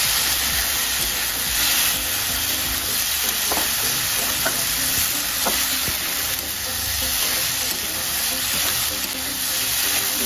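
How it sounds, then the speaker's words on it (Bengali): Food fries in hot oil and gets stirred, a dense, continuous close sizzle with soft scraping strokes of a spatula recurring throughout, no voices. "সেম এইভাবে সবগুলো আবার ভেজে নেব।"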